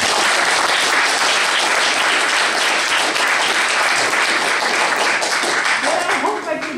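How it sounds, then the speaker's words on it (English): Loud, sustained applause from an audience welcoming a speaker at a talk, dense clapping filling the whole stretch before tapering slightly at the end. "please welcome with a great applause"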